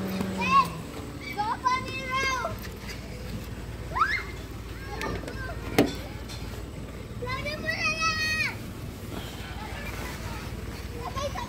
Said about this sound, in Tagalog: Ang mga bata naglalaro.